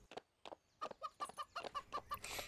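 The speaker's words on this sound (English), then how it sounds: "Oh, settle down, chicken," A chicken in the horse ranch video game The Ranch of Rivershine clucks in a quick run of about ten clipped, bright calls, close and clear with no speech over it.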